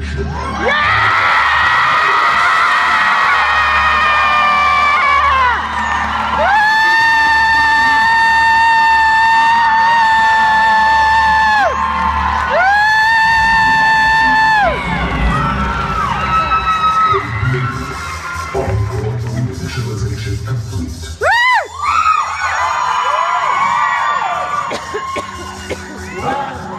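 A concert crowd cheers, whoops and yells loudly and without a break, calling for an encore, while high sustained tones ring out in bursts over the noise.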